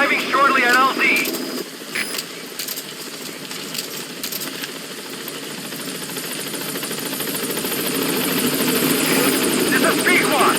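Helicopter from the Metal Gear Solid V video game arriving at a landing zone, a steady rotor and engine roar that swells louder toward the end, with a voice speaking over it near the start.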